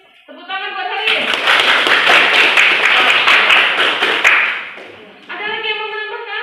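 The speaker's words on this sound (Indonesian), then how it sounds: "Tepuk tangan buat Haris." A classroom breaks into a burst of clapping for a student, dense and fairly close, lasting several seconds before it thins out, with speech heard just before and after.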